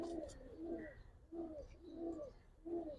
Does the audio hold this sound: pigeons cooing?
yes